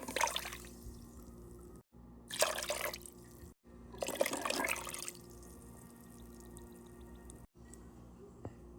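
Water poured into a pot to make syrup for gulab jamun, three separate pours of splashing liquid with brief pauses between them, quiet and close, no talk.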